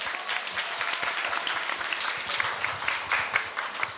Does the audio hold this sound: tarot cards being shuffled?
no